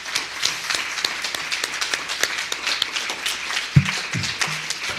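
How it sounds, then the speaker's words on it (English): Scattered applause from a school board meeting audience in Alpine School District, a steady patter of hand claps across the whole stretch, moderately distant in a room, with a few low thumps near the end. "can I ask us to give them a round of applause today?"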